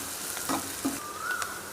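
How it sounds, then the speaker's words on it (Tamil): Onions frying in oil with mustard seeds for a Tamil-style ragda (pattani) chaat, a steady close sizzle with a few stirring scrapes and a faint tonal squeak, no talk. "வெங்காயம் வந்து நல்லா வதங்கட்டும்"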